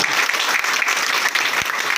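Dense, steady clapping from a seminar audience fills two seconds at close range, loud and continuous without pause.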